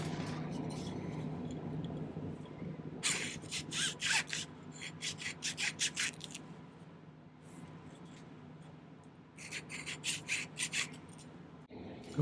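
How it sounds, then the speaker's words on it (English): A metal file rasping on a small ring piece while building an amethyst marquise ring: bursts of quick rhythmic filing strokes, close and fairly quiet, separated by pauses. "Let's clean this up a little bit with the file."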